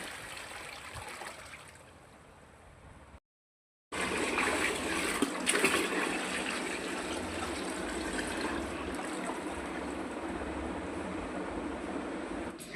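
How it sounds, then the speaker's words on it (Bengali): A bucketful of water is poured and trickles out slowly, a quiet uneven dribble that gives way after a brief silence to a louder, steady rushing flow lasting to the end. "এই প্রথম এক বালতি পানি ঢেললাম এখন"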